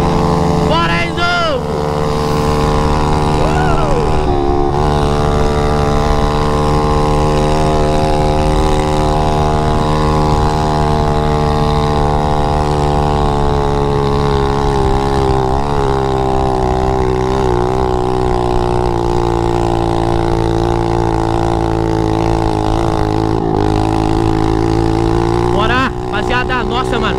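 A mini motorcycle engine screams at a steady, high-pitched rev for the whole stretch, loud and close, with the buzzing pitch wavering slightly as the small bike races across sand.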